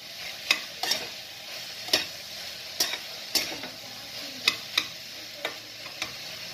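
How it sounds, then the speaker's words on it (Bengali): Bottle gourd cooks with a little ghee in a pan for a lauki ghonto, a spoon scraping and stirring in repeated sharp strokes over a soft steady sizzle. "খুলে সামান্য একটু ঘি দিয়ে দিলাম আর নাড়াচাড়া করে দিচ্ছি"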